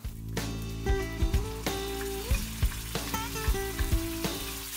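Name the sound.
sauce poured into hot pan sizzling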